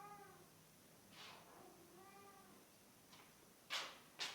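Domestic cats meow in a home: several drawn-out, tonal calls early on, then sharper, louder cries near the end, fairly close, with no talking.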